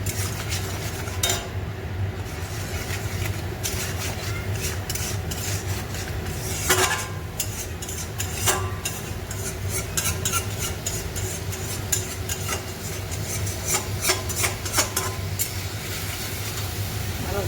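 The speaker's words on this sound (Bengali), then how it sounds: "ভালো কষিয়ে নিই, জল দিয়ে দিই।" Fish heads and potatoes are stirred and fried in a pan, a utensil scraping and clinking against the metal in a busy, continuous rhythm over a constant low sizzle, close up, with no voices.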